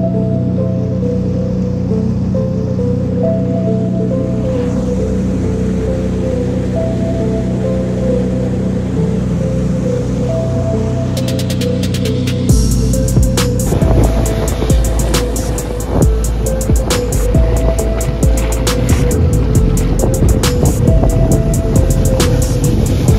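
A Sea-Doo Spark Trixx jet ski engine drones loudly and steadily, then shifts to a rougher, splashing roar as the craft moves over the water, close and with no talking.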